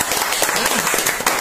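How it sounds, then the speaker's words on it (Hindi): Brief burst of dense applause from a group of students in a mobile repair training class, steady hand clapping filling the moment with a voice mixed faintly underneath. "तालियां मारो, तालियां मारो, मारो मारो।"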